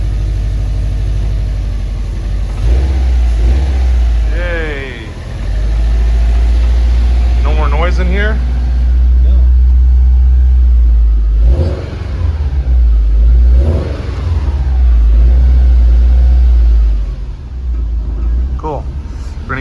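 A Subaru engine runs and revs after a WRC transmission swap with a rusty used gearbox and the intercooler refitted, a steady close low rumble with several rising revs, under and between people talking.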